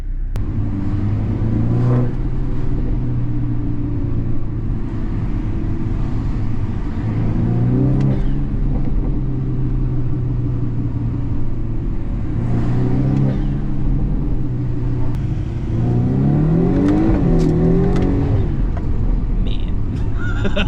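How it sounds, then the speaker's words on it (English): A turbocharged car with a tuned spool control drives on the road with a steady engine drone. It repeatedly accelerates and revs, and the pitch sweeps upward with each gear pull. "amazing how much better this car drives now"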